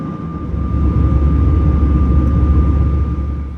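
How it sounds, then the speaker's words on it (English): A TAROM Airbus A318 jet taking off and climbing, heard from inside the cabin as a steady, loud low engine roar with a thin constant whine above it, even and unbroken throughout. "It's a very quick takeoff roll, and in no time at all, we're up in the air and climbing quickly."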